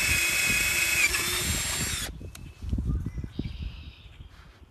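A Black & Decker Lithium Max 20V brushed-motor drill whines loudly and steadily for about two seconds, then stops, followed by handling clatter and a faint brief whir.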